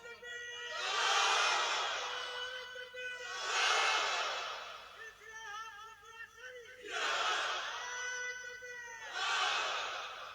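A large religious gathering in Bhangar shouts in unison at a preacher's urging, several loud surging crowd roars that rise and fall in waves, with brief quieter gaps between.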